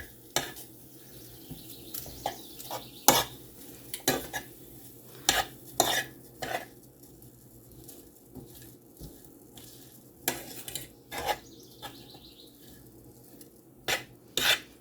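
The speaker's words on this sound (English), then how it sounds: "You hear that sizzle?" Food sizzles in a pan while a utensil repeatedly clatters and scrapes against it in irregular bursts; no one speaks.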